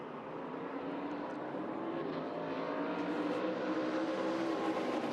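ARCA race cars accelerating together at a restart at Phoenix, a dense, rising engine roar that builds steadily over a few seconds from a distance.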